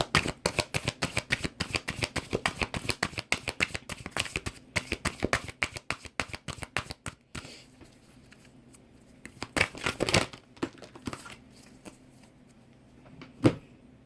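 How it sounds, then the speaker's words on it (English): An oracle card deck is shuffled in quick riffles and taps for about seven seconds, close and crisp, followed by a few scattered card flicks and slaps of cards being laid down. "we are going to pull a card from the Secret Language of Light Oracle deck"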